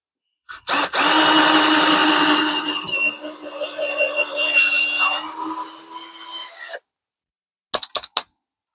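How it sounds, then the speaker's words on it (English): A 21V cordless power drill whines steadily for about six seconds as it bores into rough timber, its pitch wavering under load, then a few short trigger bursts. "Okay, drill into some pieces of wood."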